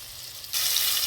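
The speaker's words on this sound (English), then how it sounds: "just listen to that sizzle" Cube steaks sizzle in a hot frying pan, a soft hiss that suddenly swells louder midway, steady and close with no talking.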